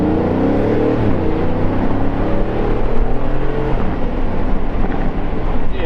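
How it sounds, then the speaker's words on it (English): A $200K Aston Martin Vantage drives along with a loud, full exhaust drone that shifts pitch as the revs rise and fall, heard close from inside the car. "I have a freaking Aston Martin. my god, it crackles so much."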